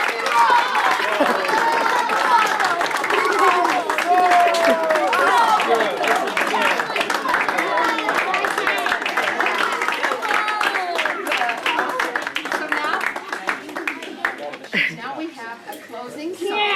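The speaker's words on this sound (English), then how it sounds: "Let's all clap for Mother because she." A small family gathering claps for Mother during a home music program, steady crowd applause running throughout with voices chattering over it, thinning toward the end.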